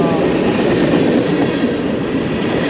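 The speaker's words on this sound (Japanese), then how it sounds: "この貨物列車が今バッファローデビュー駅を通っているんですが" A long freight train rolls through Buffalo-Depew station, a loud, close, continuous rumble of wheels and wagons with faint clatter and no break across the stretch.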